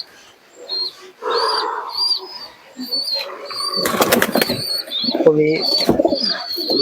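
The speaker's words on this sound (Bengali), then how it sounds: "পাঞ্জারা দেখুন খুবই সুন্দর কোয়ালিটির কবুতর আছে" Pigeons at a pigeon seller's loft, with soft cooing and a loud burst of wing flapping midway, heard under someone talking throughout.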